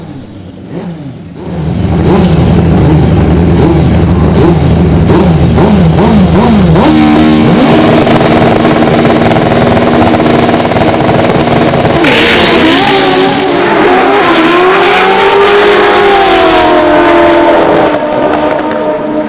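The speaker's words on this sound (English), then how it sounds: "Really nice side-by-side burnouts there." Drag racing motorcycles at an AMA Prostar drag bike championship do side-by-side burnouts, two engines roaring loud and continuous for about seventeen seconds, revving up and shifting pitch partway through.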